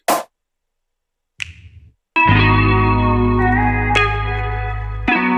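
A sharp snap sample in music production hits once near the start, then a second crisp snap with a short tail, followed by a sustained distorted synth chord with accents.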